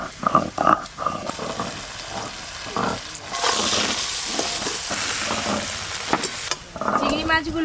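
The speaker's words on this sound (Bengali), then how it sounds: "চিংড়ি মাছগুলো ভেজে নেব।" Live giant freshwater prawns frying in a pan for a Bengali malaikari, producing a loud close hiss and sizzle that swells and holds steady, with clatter and stirring at the start and end.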